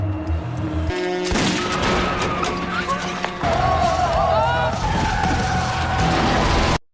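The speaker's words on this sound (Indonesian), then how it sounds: "Saat truk itu hampir sampai ke arah Hewon, dia dengan cepat langsung menembak ban truk itu yang membuatnya oleng dan kemudian truk terbalik." In a dramatic film scene, a truck skids loudly after its tire is shot out and then overturns, with a long tire screech, a heavy crash and continued rumbling close up.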